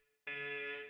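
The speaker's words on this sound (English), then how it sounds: "that's the alarm" Video game alarm bursting on suddenly after a faint lead-in tone, a loud sustained harsh buzzing siren that holds steady without voices.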